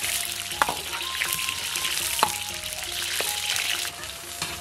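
Vegetables and spices sizzle and pop in plenty of hot oil in a wok, a steady loud frying hiss broken by sharp clanks of a spatula against the metal, with no talk.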